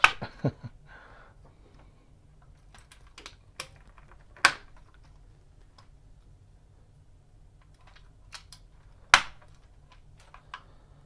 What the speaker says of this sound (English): This is the funnest part of restoring the computer, to put back the keycaps